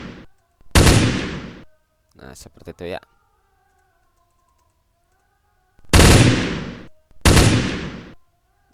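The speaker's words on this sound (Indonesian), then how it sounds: "Tembak-tembakan." Video game gunfire crackles in loud bursts, some tightly spaced and some shorter, with quiet gaps between them and someone talking briefly among the shots.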